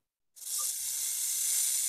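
A snake hisses in one loud, steady hiss that begins abruptly after a short silence and holds without a break.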